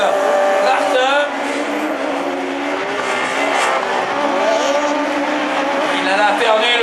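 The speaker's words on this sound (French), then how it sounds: "Qui se fait déposséder par la Peugeot bleue d'Emmanuel Martin." Rallycross race cars at Dreux roar past, including a blue Peugeot, engines revving loudly and continuously with tire noise while an announcer commentates over them.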